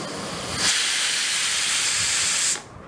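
A pressure cooker holding bottle gourd and tomato curry lets out a loud, steady whistling steam hiss that starts abruptly, holds for about two seconds and then cuts off.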